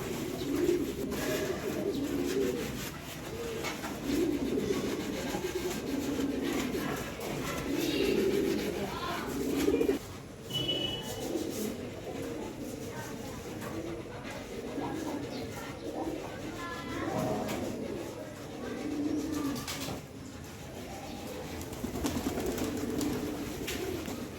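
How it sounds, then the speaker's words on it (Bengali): Pigeons coo steadily as they come down onto a tin roof, their soft calls mixed with faint knocks and rustling over a constant noisy background. "এই যে কবুতর টিনের চালে নেমে আসছে"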